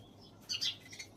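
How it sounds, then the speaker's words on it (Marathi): Sparrows give a few faint, brief chirps at a distance outdoors, with quiet background hum and no talking. "चिमण्या पण"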